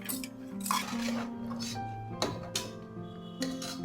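Boiled peanuts are stirred with salt in a metal vessel for sundal, making close scraping and clanking of a ladle against the pot in irregular strokes, with a faint sizzle beneath and no talk.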